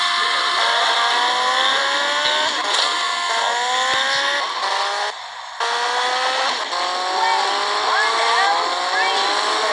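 A fast motorbike engine in the video game GTA Vice City revs loud and steady, its pitch climbing in repeated sweeps, with a short dip in the roar just past midway.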